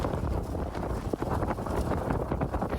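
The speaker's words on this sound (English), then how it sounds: "You can see strong wind gusts blowing the entire stand over and destroying many items." Strong wind gusts roar steadily across an outdoor fruit stand, a continuous loud rumbling buffet against the microphone with a few sharper thumps and knocks mixed in, no voices.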